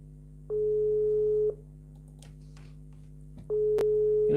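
A telephone ringback tone sounds twice, a steady one-second beep separated by a pause, over a low electrical hum.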